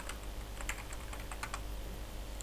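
Quiet, scattered keystrokes on a computer keyboard sound over a steady low hum, as someone types a few words in an irregular rhythm.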